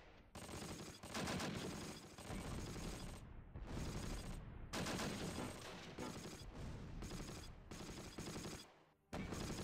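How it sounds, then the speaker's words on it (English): Mortar shells and rapid gunfire in the Close Combat war strategy game, a dense, continuous crackle of shots with heavier thumps, loud and steady with brief lulls. "I'm gonna fire off a couple of mortar shells"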